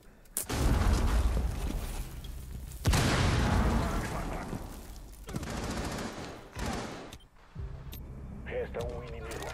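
Bursts of rapid gunfire and booming shots in the video game Rainbow Six Siege crackle loudly, with a voice talking intermittently between the volleys.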